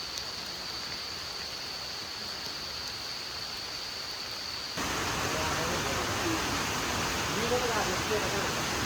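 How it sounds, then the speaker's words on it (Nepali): Monsoon rain falls during a hike at Sundarijal, a steady close hiss of downpour that grows noticeably heavier halfway through and then holds at that level. "पानी पर्यो छाता छैन"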